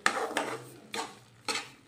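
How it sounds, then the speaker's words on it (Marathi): A spoon stirs sugar into carrot halva in a kadhai, giving three or four close scraping strokes, each a brief rasp separated by short pauses. "आता आपण ही साखर जी आहे यामध्ये मिक्स करून घेऊया"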